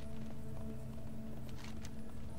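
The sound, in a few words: pig mount hoofbeats in World of Warcraft video game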